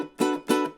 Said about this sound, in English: So I'm going raschiato, up, down. And that sounds like this.